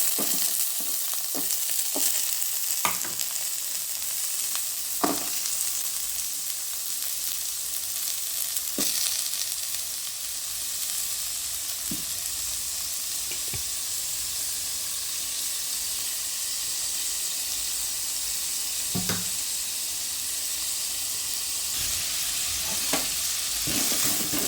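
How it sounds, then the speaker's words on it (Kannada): Chopped carrots and potatoes sizzle steadily in hot oil in a pan, a continuous bright hiss with occasional clicks and scrapes of stirring, close and moderately loud with no voices. "ನಾನು ಎಣ್ಣೆ ಕಾಯ್ತಿದ್ದಂಗೆ ಮೊದಲಿಗೆ ಈ ಕ್ಯಾರೆಟು ಏನು ಆಲೂಗಡ್ಡೆ ಹೆಚ್ಕೊಂಡಿದ್ದೆ ಇದು ಹಾಕ್ತಾಯಿದ್ದೀನಿ"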